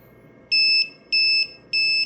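A voucher dispenser vending machine sounds three clean, identical electronic beeps at an even pace, each about a quarter second long, loud and close against a quiet hum.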